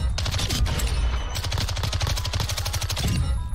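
Rapid, sustained bursts of MX9 submachine gun fire in Modern Warfare II, loud and close with a fast, even cadence and only brief breaks between strings of shots.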